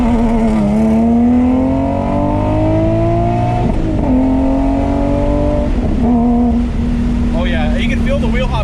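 Infiniti G37S coupe launching hard with wheel hop and wheelspin, heard from inside: loud rising engine note climbing through gears, brief stutters at the shifts, and voices talking over it toward the end.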